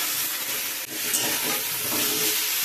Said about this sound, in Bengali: আনাজগুলো ভাজা হয়ে গেছে